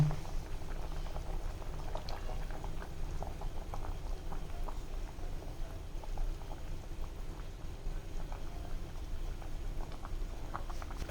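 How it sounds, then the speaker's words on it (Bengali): Mixed vegetables with an egg bubble in a pot, producing a steady, close, low churning boil with soft popping and patter that continues evenly throughout, with no speech. "বলক আসুক বলক আসার পরে সেই পর্যন্ত দেখতে থাকেন"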